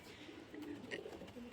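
A pair of maxi racer pigeons, one male and one female, give soft, faint cooing close by in a quiet setting, with low murmuring calls running through the short stretch.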